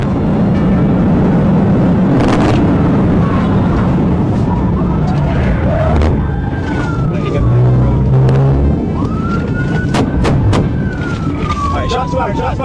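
A police car chases a speeding vehicle through Carroll County, Georgia, its siren wailing in rising and falling sweeps over loud, continuous road and engine noise, with brief bursts of other sounds along the way.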